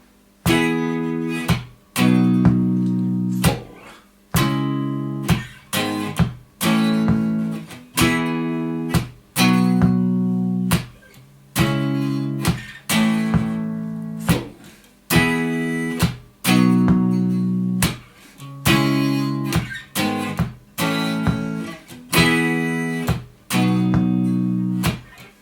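Guitar strums out chords in a steady rhythmic pattern, with some chords left ringing. It is played alone and up close.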